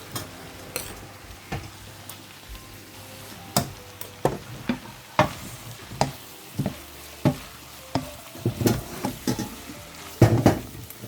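Fried rice sizzles steadily in a pan while a utensil stirs and scrapes it, making a string of sharp clinks and taps that grow busier toward the end.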